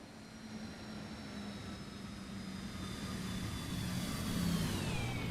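An airplane passes during plane spotting, a faint, distant engine roar that slowly grows louder while a thin whine glides downward in pitch.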